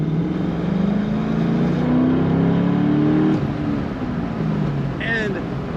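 A 2012 Chevrolet Corvette convertible with an automatic transmission runs with the top down, its engine droning steadily, rising as it accelerates, then easing back as speech comes in near the end.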